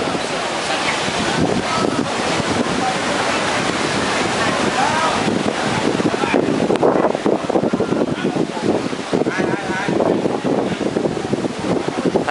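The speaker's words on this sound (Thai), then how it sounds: "ลมแรงครับลมยังแรงนะครับลมยังแรงคลื่นยังโอ้โหกระทบฝั่ง" Strong wind and surf on a beach at Koh Samet, Rayong, Thailand: a steady, loud roar of waves washing ashore, with gusts buffeting the microphone for the whole stretch.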